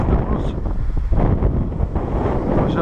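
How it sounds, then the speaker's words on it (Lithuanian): Strong wind buffets the microphone by a river during an eel-fishing trip, a loud, continuous rumbling roar with no pauses throughout. "Vėjas labai stiprus."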